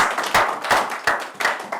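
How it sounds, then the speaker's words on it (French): Church congregation clapping for the Lord, a short burst of rhythmic group handclaps, close and fairly loud. "Acclamez pour l'Éternel."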